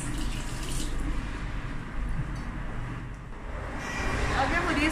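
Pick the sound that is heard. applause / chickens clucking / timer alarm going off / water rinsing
water rinsing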